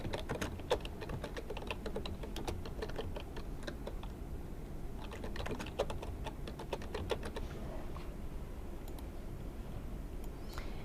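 Steady typing on a computer keyboard with rapid clicking keystrokes coming in bursts over a low background hum, close and fairly soft, no talking.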